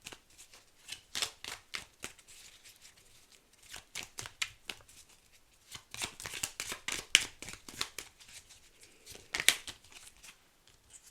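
Oracle cards being shuffled by hand during a tarot-style reading, a steady series of crisp riffling snaps with brief pauses, close and fairly quiet, no talking.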